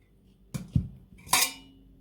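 A few clattering knocks of figs dropped into a metal pot, three separate bursts in quick succession with brief pauses between them.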